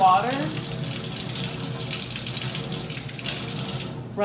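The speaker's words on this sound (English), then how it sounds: "water right on that seam between the jar and the lid" Tap water runs steadily and splashes onto the seam between a glass jar and its lid, a continuous hiss that briefly cuts off at the end.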